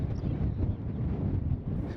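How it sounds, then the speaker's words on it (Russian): Steppe wind buffets the microphone in a steady low roar with gusty swells, near and continuous, with no voices. "выяснили, что степной ветер проснулся куда раньше нас"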